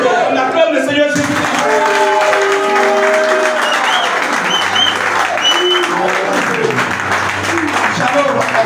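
Sustained loud applause from a church congregation acclaiming the Lord Jesus, a dense wash of clapping with a voice speaking over it.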